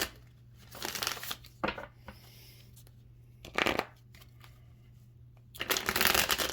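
Tarot cards being shuffled by hand, several separate bursts of riffling and sliding with quiet gaps between them, close and fairly soft, with no talking.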